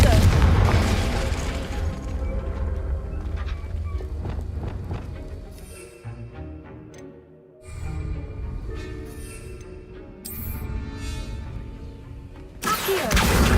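Confringo fire-blast spells in Hogwarts Legacy on hard difficulty: repeated booming bursts and pops ring out amid combat noise and game music, with a voice calling out spell names between them.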